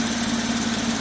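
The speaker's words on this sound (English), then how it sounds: "we're gonna test the sport exhaust, so we're gonna press it on and off" A Porsche 997 Carrera S with sport exhaust runs at a steady, loud, throbbing idle, its low droning note holding constant and close with no talking.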